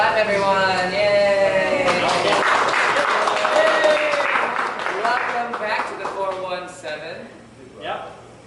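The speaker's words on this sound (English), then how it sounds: "All right, so clap, everyone." An audience claps and cheers at a live show, a sustained burst of applause that thins out toward the end, with a voice speaking over it.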